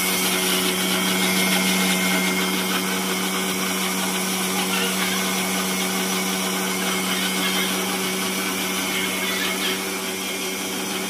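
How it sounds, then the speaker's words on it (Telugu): A kitchen mixer grinder whirs steadily, blending dry fruits into a soft paste for baby food laddu, with a loud, unbroken motor drone and no talking. "సో మిక్సీ అయితే పట్టుకోవాలన్నమాట పేస్ట్ లాగా"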